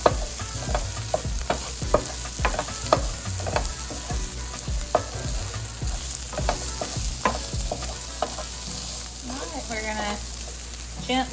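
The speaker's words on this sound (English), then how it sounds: "gently add in our potatoes. Stir that up." Chorizo and potatoes fry in a pan, a steady sizzle broken by repeated scraping clicks of stirring, close and fairly loud, with no talking.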